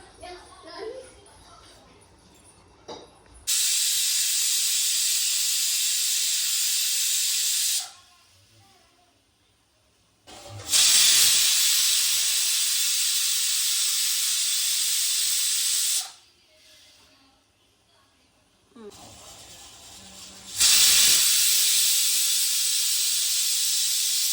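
Three long loud bursts of hissing steam from a pressure cooker whistle while cooking mutton curry, each several seconds long, separated by quieter gaps with faint background sounds.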